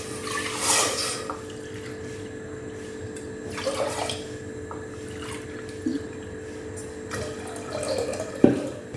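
About 3.5 cups of water poured in a few splashy bursts into a pressure cooker pot for pongal, with gurgles and drips in between over a steady background hum.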